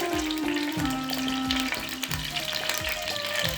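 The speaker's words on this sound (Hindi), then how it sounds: "पैन में हमने 1 चमचा कुकिंग ऑयल का लेकर उसमें शामिल करेंगे 2 तेज पत्ते" Two bay leaves sizzle and fry steadily in a spoonful of cooking oil in a pan, a continuous close crackle with faint stirring and no voices.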